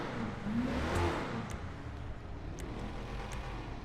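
A Declasse Drift Walton car in GTA 5, modelled on a 1982-1993 Chevrolet S-10 pickup, revving its engine in a single swelling rise that settles into a steady mid-pitched hum.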